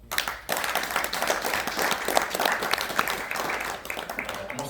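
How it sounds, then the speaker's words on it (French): An audience at a Congo Week Switzerland entrepreneurship event bursts into sustained applause, a dense, steady wash of many hands clapping close by that holds for several seconds and eases slightly near the end. "Donc, rien que pour ça, on peut les applaudir."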